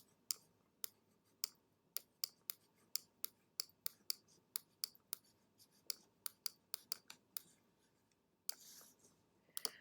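Pen strokes writing out a quadratic equation, a quick series of sharp, close scratchy ticks in irregular bursts over a quiet background.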